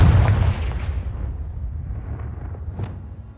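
A Confringo fire spell in Hogwarts Legacy bursts with a loud, deep boom at the start, then rumbles and fades, with a smaller pop near the end.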